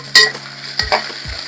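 Chopped onion and green chillies frying in a pan, with a couple of sharp spatula scrapes over a short burst of sizzle, close and clear.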